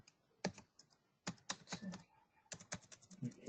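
Someone types a password on a computer keyboard in a few quick bursts of close key clicks, separated by short pauses, in a quiet room.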